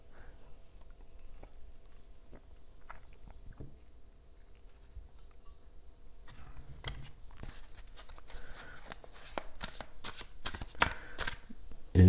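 Tarot cards are shuffled by hand, first faint and sparse, then a run of crisp, riffling bursts that grows louder and closer toward the end, with no voices.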